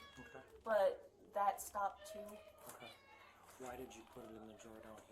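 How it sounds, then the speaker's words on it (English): A cat meows several times in short bursts near the start, loud and close, while people talk over and after it. "Yeah, that's a cat."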